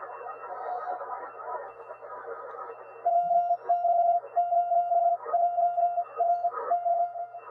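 A Morse code signal on amateur radio: a steady, faint tone keyed in short and long beeps over a constant band of hiss and static, with no voices.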